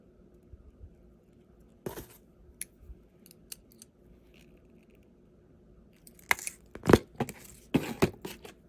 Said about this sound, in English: Cut this wire loose so we don't see it.